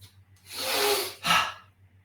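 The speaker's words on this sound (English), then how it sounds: "let's just breathe in again and see how that feels" A deep breath drawn in through the nose during a guided breathing exercise, a soft airy inhale followed by a shorter second breath, close and quiet with no talk.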